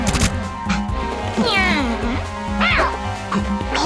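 A cat character in the fighting game Skullgirls lets out a couple of drawn-out, rising meows over busy game music and hit effects, loud and close, with a voice talking in between.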